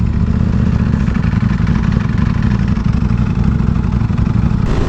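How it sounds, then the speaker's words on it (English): Ducati Panigale V4R motorcycle engine idling close up, a loud, steady, clattery mid-pitched drone that holds constant without clear rev spikes, no speech. "sometimes when the bike gets too low, yeah, just like right now, it revs it up."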